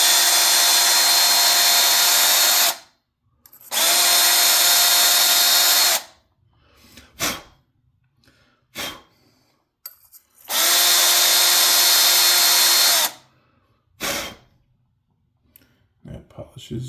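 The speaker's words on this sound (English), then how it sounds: "I got this brush attachment for my drill to make things a little quicker." Power drill fitted with a brush attachment scrubbing the interior of a shower valve, running in loud sustained bursts of about two to three seconds with short stops, then brief clicks and handling noises between runs.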